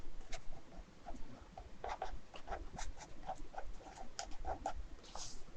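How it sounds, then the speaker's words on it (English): A marker squeaks and scratches across a board in irregular short strokes, close and moderately loud, with no talk over it. "So just go ahead and write that."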